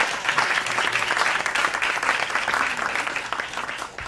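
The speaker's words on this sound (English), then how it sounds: "Can we give them a round of applause?" Applause for panelists at a public higher education event, a full, even burst of many people clapping, loud and near, holding steady for several seconds before easing slightly at the end.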